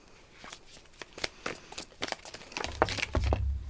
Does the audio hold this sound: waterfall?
no